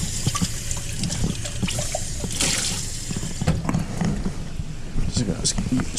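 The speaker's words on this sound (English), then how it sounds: "Just gonna add a little bit of water to that" Water pours steadily into a pan of herby cream sauce, a continuous splashing trickle with clinks and bubbling, close by and fairly loud throughout, with no voice over it.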